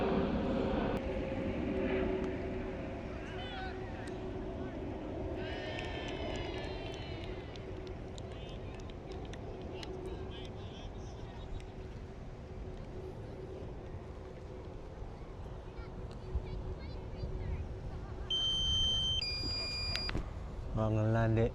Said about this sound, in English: I'm trying to land the drone at the same time.